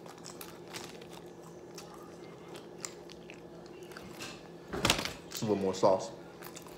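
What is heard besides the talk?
eating a Taco Bell burrito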